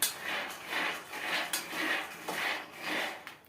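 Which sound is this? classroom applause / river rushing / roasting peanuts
roasting peanuts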